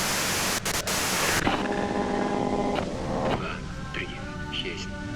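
Loud hissing white-noise static in the video game Disco Elysium fills the opening seconds, then cuts off sharply and gives way to quieter game ambience.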